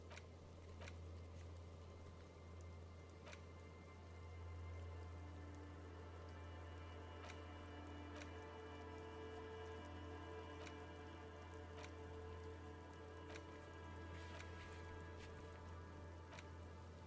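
Steady rain in the video game Disco Elysium, a constant soft patter with scattered drop ticks over a low ambient hum, continuous and even throughout with no talking.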